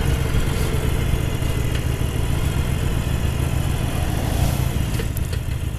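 Harley-Davidson Sportster Iron 883 motorcycle engine heard while riding, a constant loud low rumble mixed with wind noise, steady throughout with no talking.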